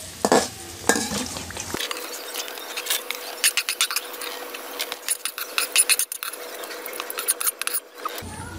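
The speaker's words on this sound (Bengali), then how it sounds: "এখন আমি এটাকে একটা পাত্রের মধ্যে তুলে" Fried carrots and vegetables are scooped from an oily pan into a bowl, with repeated close metal scraping and clinking of utensil against pan and a faint sizzle underneath.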